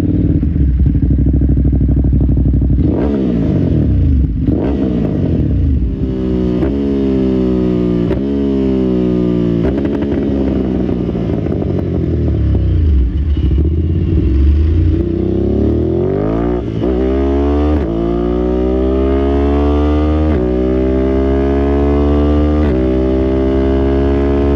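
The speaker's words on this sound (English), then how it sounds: "the Termione exhaust, sorry to any Italians watching, fitted to this bike is undoubtedly the jewel in its crown" A Ducati Monster motorcycle fitted with a Termignoni exhaust revs loudly and up close, its engine note climbing and falling through several blips and sustained pulls over a steady rumbling idle.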